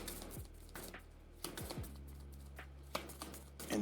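A deck of board game cards being shuffled by hand at a tabletop, giving quick close riffling and tapping clatters in short bursts, with no talking.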